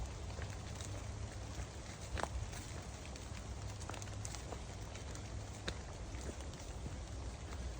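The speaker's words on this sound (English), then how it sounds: "Just a very light drizzle." Light drizzle falls on a wet forest trail on the Glenwood Dunes loop in Indiana Dunes National Park, a faint, steady hiss with occasional soft drop ticks and no voices.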